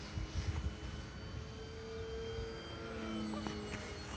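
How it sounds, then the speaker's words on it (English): A small model airplane flies overhead outdoors, its faint, steady engine hum drifting at a distance with soft wind buffeting early on; no one speaks. "Hesston is watching Uncle Jeff fly one of his little planes"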